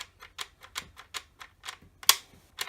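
A Nerf Demolisher blaster's oversized magazine release gives a rapid series of light plastic clicks, about a dozen in a steady rhythm, close and quiet, with one sharper snap near the end.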